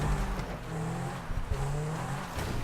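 A vehicle drives over crops in a crop-dusting video game, its engine droning steadily with tonal revs and a rumbling low end, fairly loud and continuous without speech.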